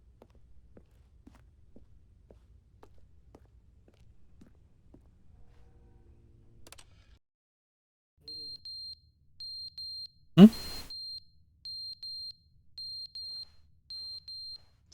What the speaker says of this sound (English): It's a fire alarm, I think.